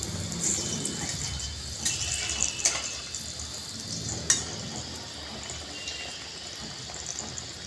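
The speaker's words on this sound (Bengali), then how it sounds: "একটা করে করে মালপোয়া ভাজছি আর থালায় রাখছি।" Malpua batter pancakes fry in hot oil in a pan, a moderate steady sizzle with a few sharp clicks and scrapes as the pan is handled, no talking.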